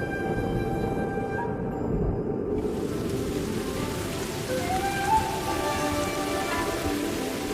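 Heavy desert downpour roars as a steady, dense hiss of rain pounding the ground, continuous and loud throughout with no voices.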